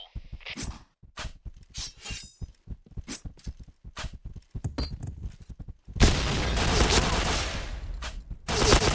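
Rapid gunshots in the video game Point Blank crack in quick bursts and single shots, then a dense, continuous roar of gunfire and blasts.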